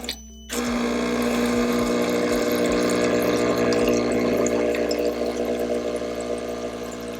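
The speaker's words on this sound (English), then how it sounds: "Now it says we gotta flush the system. Alright, I got my jug in there, and now let's start the purge." Breville Barista Touch espresso machine pumping water through its system during a flush, a steady loud mechanical pump drone with rushing water that starts abruptly after a brief pause and holds continuously.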